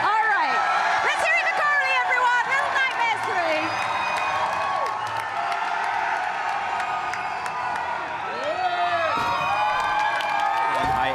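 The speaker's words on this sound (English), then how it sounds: "that crowd is going crazy out there" A large crowd on the Gamescom show floor cheering and whooping loudly and continuously, with shrill shouts rising over a dense roar, and voices talking near the microphone.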